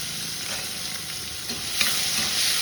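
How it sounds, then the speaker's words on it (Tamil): Chopped onion and crushed garlic sautéing in oil in a pan for a spicy tamarind curry, a steady close hiss and sizzle with faint stirring scrapes and a small clink, no speech. "இதை போட்டு நல்லா கொஞ்சம் வதக்கணும்."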